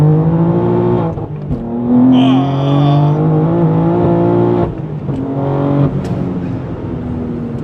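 A tuned BMW M3 G80 with a manual gearbox, Stage 3 tuning and nearly 800 horsepower pulls hard at full throttle. The engine note climbs steadily, cuts off at a gear change and then rises again, loud and close.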